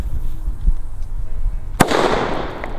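A Silver Pirate firecracker goes off outdoors with one sharp, loud bang, followed by a crackling hiss as it fades, after a quiet stretch of low background rumble.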